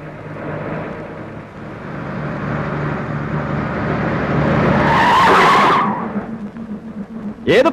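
Close car skidding hard with loud screeching tires from a reckless driver, a long rising squeal after a steady engine drone, ending in a short sharp screech.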